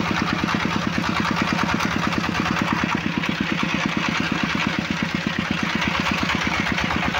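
A diesel-engine motor van (bhotbhoti) chugs steadily on a rural road, its loud, even rapid knocking continuous and close throughout, with no voices.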